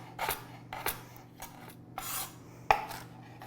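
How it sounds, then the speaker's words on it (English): Ginger being chopped for a crunchy topping with a non-knife chopper, giving several separate, fairly faint clattering chops spread out over a few seconds, with one sharper knock near the end. "So I am chopping up the ginger for the topping, the crunchy topping."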